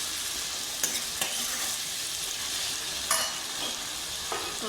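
Onions frying in a pan, a steady bright sizzle running throughout with a few sharp clicks of stirring scattered across it, close and fairly quiet, no voices.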